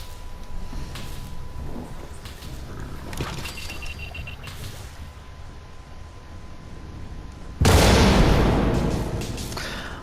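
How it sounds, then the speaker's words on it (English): A loud explosion in the Fallout 76 Pitt expedition bursts in suddenly after several seconds of quieter game noise, a broad booming blast that rumbles and slowly fades. "Well, I managed to avoid the explosion"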